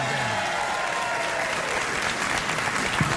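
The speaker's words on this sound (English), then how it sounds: "All right, a round of applause." A studio audience gives a sustained round of applause, a thick continuous roar of clapping and crowd noise that stays full and even from start to end, with no voices on top.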